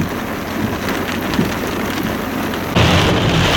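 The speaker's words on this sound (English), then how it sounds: "Torrential rain here in Coonamble." Torrential rain pours during a thunderstorm near Coonamble, a dense, loud, constant roar of rain on surfaces that swells heavier toward the end with low thunder rumbling beneath, and no voices are heard.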